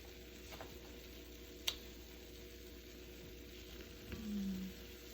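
Bannock dough frying in a pan gives a faint, steady sizzle, broken by a single sharp tick and a brief low scrape near the end.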